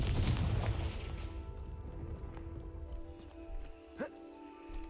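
A Confringo spell blast goes off in the Hogwarts Legacy video game, a loud booming burst at the start that fades into a rumbling tail, followed by a smaller pop a few seconds later.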